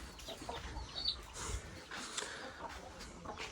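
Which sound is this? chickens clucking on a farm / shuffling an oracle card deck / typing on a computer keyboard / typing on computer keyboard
chickens clucking on a farm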